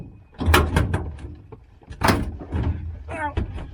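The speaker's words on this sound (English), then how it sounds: "I'm going to try and yank this door trim out" A car door trim panel is wrenched loose in a shed, giving several sharp plastic cracks and thuds in bursts, with a voice speaking briefly near the end.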